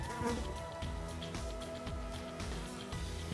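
Flies buzzing around a long-dead body in a film scene, a steady close droning hum that wavers slightly in pitch and carries on throughout without voices.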